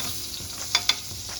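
Butter sizzles in a hot pan under a sandwich, a steady soft frying hiss with two brief sharp clicks partway through, and no talking.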